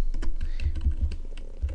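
Typing on a computer keyboard while entering a command in a CentOS 6.3 terminal: a close, fairly loud run of quick irregular key clicks and thuds with no talk.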